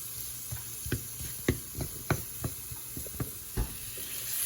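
Flour browning with cube steak in a hot pan over high heat: a soft steady sizzle with a string of sharp scraping taps as the pieces are separated.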